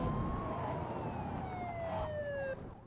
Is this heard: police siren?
yes